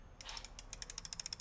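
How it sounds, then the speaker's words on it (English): A wrench ratchets while loosening a bolt on a Piaggio Ciao moped, giving a close, steady run of about ten crisp clicks after a brief scrape, with no voices. "Pull my wrench out for a second time."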